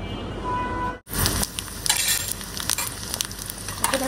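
Bay leaf, five-spice seeds and green chilies hit hot oil with a sudden loud sizzle after a brief cut, then crackle and spit steadily with stirring, close and unaccompanied by talk.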